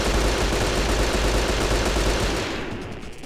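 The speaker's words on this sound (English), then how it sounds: "now we have a new machine gun, by the way. Let's test it out" A continuous, dense burst of machine gun fire from the action game Hunter: The Reckoning roars loudly and close for about two and a half seconds, then trails off into a fading tail.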